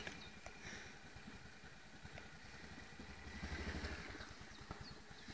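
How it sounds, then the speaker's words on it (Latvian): A Honda Rincon TRX 680 ATV engine runs close by with a steady, pulsing mechanical rumble that swells louder for a moment near the end before settling back. "Rūdam motoru."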